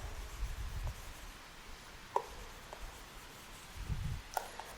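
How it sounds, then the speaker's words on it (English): Faint marker or chalk strokes on a classroom board, soft scratchy rubbing with a few sharp ticks as the tip lands, quiet and intermittent against low room hum, no speech. "Let me write it here."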